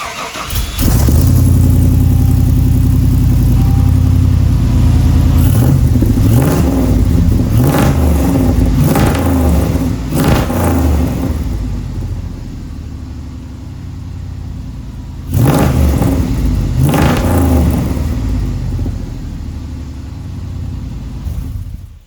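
A Chevy square body truck's V8 engine with a tailpipe fitted revs hard in repeated loud bursts, deep rumbling idle between throttle blips, heard close and alone.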